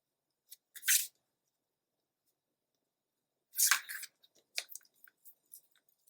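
Scrapbook paper for a mini album is cut to width with a trimmer, giving two brief crisp slicing strokes in a quiet room, followed by soft scattered paper rustles and taps.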